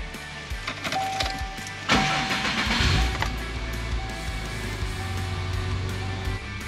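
First start of a Subaru Impreza 2.5 RS engine after a manual transmission swap: a starter crank, then the engine catching into a steady close idle with a rough, rising burst early on and a constant hum.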